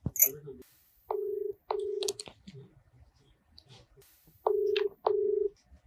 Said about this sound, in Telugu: నేను వాళ్ళ హస్బెండ్ కి ఒకసారి కాల్ చేస్తాను.